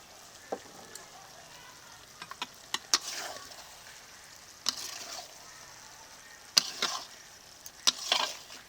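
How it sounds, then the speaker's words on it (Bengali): Fish curry (chorchori) in a pot being stirred now and then: scattered light scraping and clinking taps over a faint steady sizzle, with a few louder knocks near the end. "মাঝে মাঝে ঢাকনা খুলে একটু নাড়িয়ে দেব যাতে নিচে লেগে না যায়"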